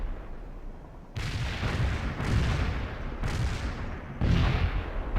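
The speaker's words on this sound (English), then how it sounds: "Zulu 9er firing mortars." Mortar fire in the real-time strategy game World in Conflict: a series of heavy, booming impacts arriving every second or so, each a broad rumbling burst that sustains into the next, loud and fairly close.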